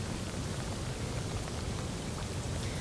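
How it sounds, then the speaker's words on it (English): Heavy rain pours steadily during Tropical Storm Julia in a flooded downtown street, a dense, loud, unbroken hiss with no voices. "I'm seeing a lot of rain and I'm seeing a lot of flooding."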